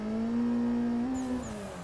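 Car engine in a drifting game on a free-roam touge mountain road, a steady, close, loud droning rev that holds pitch, rises briefly and then dips, with a faint tyre squeal edging in toward the end.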